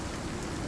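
Rain falling in the survival video game Icarus makes a dense, even patter, close and constant through a brief moment, with nobody speaking.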